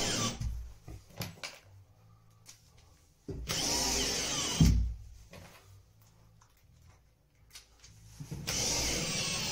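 A power drill drives screws through a plasterboard patch into timber behind it. Several short, whirring bursts start and stop, with quiet gaps and light handling clatter between them, heard up close.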